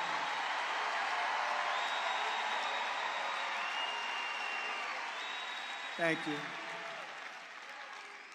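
A large crowd at a political rally applauds and cheers steadily, a dense, continuous wash of clapping with a few whoops, while someone briefly speaks over it near the end.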